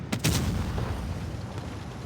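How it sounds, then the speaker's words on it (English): A T57 autoloader tank in a video game fires off its clip, a couple of sharp gun blasts near the start followed by a rumbling, reverberant tail of engine and battle noise. "I just emptied my clip so I could get some fresh rounds out"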